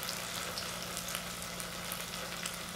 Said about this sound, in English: If you hear it slowing down,